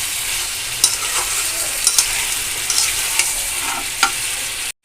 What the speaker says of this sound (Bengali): রেখে আমি ভালোভাবে কষায় নেব।